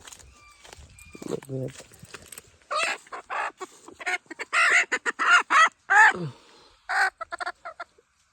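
Chickens on a poultry farm give a string of short, close clucks in uneven bursts, with someone speaking over parts of it.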